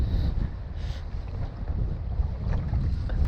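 Strong wind gusting across open water at Farmoor on a March day, a loud constant roar buffeting the microphone with deep rumbling and no voices.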